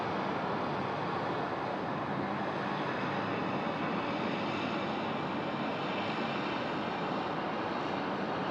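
A Singapore Airlines plane on night approach to Sydney Airport, heard as a steady, distant broadband jet roar that holds evenly throughout with no talk.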